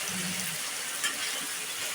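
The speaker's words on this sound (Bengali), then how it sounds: "অল্প একটু পানি দিয়ে দিচ্ছি" A little water poured into a pan of fish curry with small fish in cooked-down spices, a faint, soft steady trickle against a quiet kitchen background.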